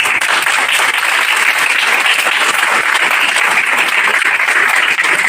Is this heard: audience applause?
yes